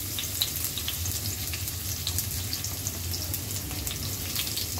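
Garlic and plenty of chopped onion frying in oil for a beef momo filling, a steady close crackling sizzle with faint stirring and scraping running throughout, no voices.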